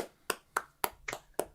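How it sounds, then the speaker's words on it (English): A few people clapping for Lloyd, six sharp separate claps spaced unevenly over a moment, quiet and close with no talk. "as soon as we're done clapping, we will stop"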